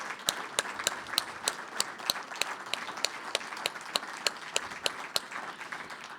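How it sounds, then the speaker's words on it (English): Sustained applause from an audience at an evening poetry event with Marie Howe and Pádraig Ó Tuama, a steady wash of many hands with sharper individual claps rising through it. "giving Marie Howe and Pádraig Ó Tuama the largest round of applause"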